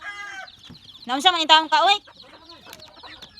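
A wounded white chicken gives a short burst of loud, close clucks in a quick rhythm, with a person talking softly before and after.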